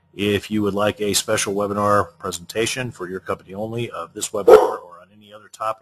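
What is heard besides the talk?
dog barking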